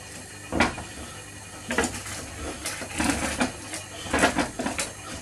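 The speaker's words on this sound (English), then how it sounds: "Best off grabbing a wooden spoon for this. scrape the bottom of the pan." A wooden spoon scrapes across the bottom of a pan while vegetables soften for Peking beef, with several irregular rough strokes and knocks, close by, with no speech.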